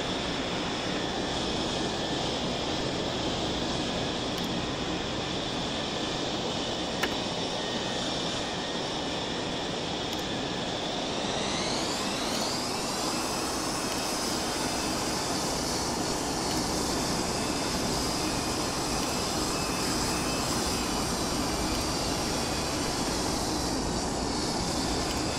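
Mirage F1 jet taxiing toward the runway in DCS, a steady loud engine whine and rumble, with a rising tone shift midway as thrust changes, no voices over it.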